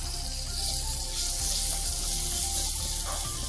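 Cashews and almonds sizzle steadily as they fry in hot ghee alongside roasted semolina (rava), a continuous close crackling hiss with no voices.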